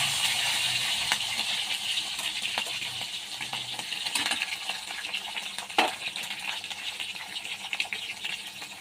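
Shrimp frying in hot oil in a wok, a steady dense sizzle with scattered crackles and pops, close and continuous throughout.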